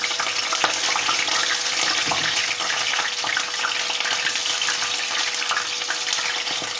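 Raw jackfruit pieces fry in a pan, giving a continuous loud hiss and sizzle with scattered crackles and no talk.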